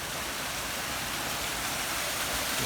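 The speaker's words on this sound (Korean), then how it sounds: "폭포도 만들고 이렇게 개울도 조성하고 있습니다" Steady broadband rush of falling and running water from a built waterfall and stream in a town park, a continuous even wash heard up close with no voices.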